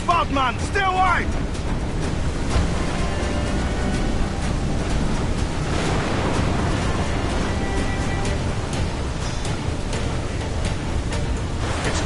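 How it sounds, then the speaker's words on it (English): Wind and waves around a waterspout at sea in Assassin's Creed Black Flag roar as a loud, dense, constant wash, with voices speaking over the storm. "Water spout, man! Stay away!"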